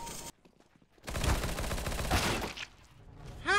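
Rapid bursts of gunfire in the video game CS:GO, loud clattering volleys filling most of the clip after a brief quiet gap, ending with a short electronic chirp.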